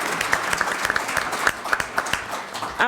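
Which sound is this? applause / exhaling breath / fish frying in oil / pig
applause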